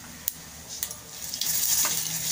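Turmeric and Malvani masala fry in hot oil with garlic, a steady close sizzle that swells louder, with a few light taps of stirring.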